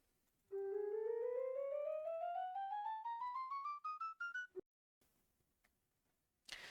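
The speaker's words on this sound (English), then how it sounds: "With clay underneath it, the instrument will change to a flute." Minecraft note block set on clay, playing its flute voice: a run of about a dozen clear, breathy tones climbing steadily in pitch, each note short and close, followed by a brief click and a few faint scattered noises.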